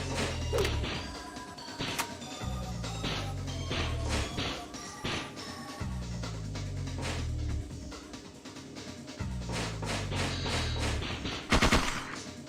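Gunfire in Parasite Eve 2, bursts of rapid shots and crashing impacts over recurring low pulsing tones, with a sharp loud blast near the end.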